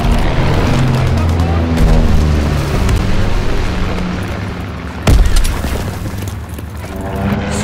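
Bombs dropping in Call of Duty WW2 on the Gibraltar map make deep rolling booms and rumbling over a continuous battle din, with one sharp loud blast partway through and a voice speaking over the action.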